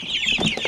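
Cornish cross meat chickens from a homestead flock cluck and murmur close by, a few short, rising-and-falling vocal bursts in quick succession with no talk over them.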